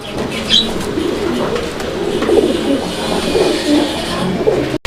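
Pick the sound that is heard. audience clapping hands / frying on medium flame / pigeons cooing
pigeons cooing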